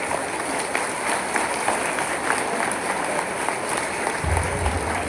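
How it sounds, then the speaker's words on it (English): An audience at a middle school honors day ceremony claps steadily and continuously, a dense wash of many hands filling the room. "Let's give them a big round of applause."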